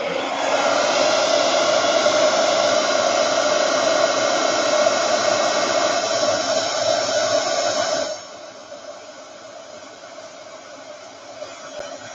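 A craft heat tool blowing to melt embossing powder on a card, a loud steady whooshing roar close by for about eight seconds, then switched off, leaving faint room noise.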